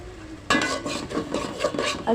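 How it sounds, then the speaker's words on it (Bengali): Ground spices being sautéed and stirred in a pan for a duck curry, with a utensil scraping and clattering against the metal in steady, close strokes over a light background sizzle. "তো এখানে আমি সব ধরনের মশলা অ্যাড করে এখন হালকা একটু কষিয়ে নেব।"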